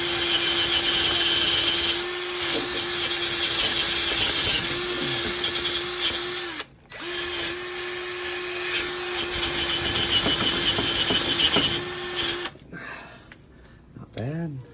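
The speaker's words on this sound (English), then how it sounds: "What we're gonna do is just polish this old anode to try to get access to the bolt underneath here." A wire brush scrubs an old anode on a Suzuki 140 outboard engine, giving a loud, steady scraping rasp with a constant tonal whine that runs nearly unbroken, pauses briefly midway, then stops, leaving faint handling noises.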